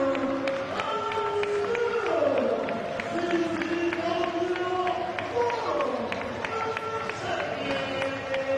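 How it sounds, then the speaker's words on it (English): A CZW Wrestlecon crowd after a bloody Jun Kasai vs Masada match, with a steady, loud wash of many voices shouting and jeering at once, continuous throughout and with no clear single speaker. "the fans in the crowd sound pretty pissed"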